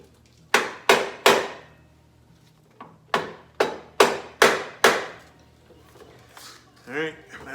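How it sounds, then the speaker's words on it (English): A hammer taps a Harley-Davidson Ultra wheel axle through its hub in sharp metallic blows: three quick strikes, a pause, then a steady run of five or six more, ending with a brief spoken word. "Let's tap over the axle."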